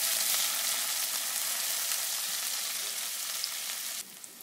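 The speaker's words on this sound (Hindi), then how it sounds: "इसको अच्छे तरीके से मिक्स करेंगे और इसकी बुनाई करेंगे" Onions and green chilies sautéing in a pan for aloo baingan curry, giving a loud, dense, continuous sizzle that drops off abruptly near the end, with no voices.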